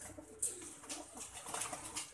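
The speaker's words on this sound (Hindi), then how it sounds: "बहुत ही हसीन कबूतर है" Soft, low pigeon cooing murmurs in a quiet space, with a few faint chirps above and no talking.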